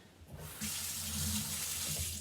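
Tap water runs steadily into a sink to rinse a water brush's bristles, a close, continuous splashing that begins softly and swells after a moment, with no talk.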